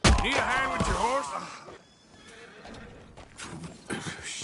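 A horse in Red Dead Redemption 2 lets out a loud, close whinny at the start, followed by softer hoof clip-clops and movement.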